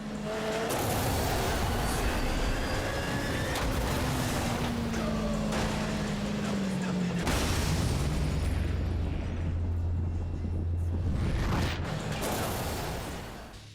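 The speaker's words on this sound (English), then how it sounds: "you only hear the explosion of your car" Car crash explosion in the racing video game Motorstorm, a loud sustained roaring blast with rumbling debris and mechanical crunching that swells, dips briefly, then surges again before fading.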